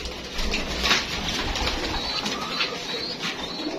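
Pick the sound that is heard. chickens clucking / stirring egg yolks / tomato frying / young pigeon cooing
young pigeon cooing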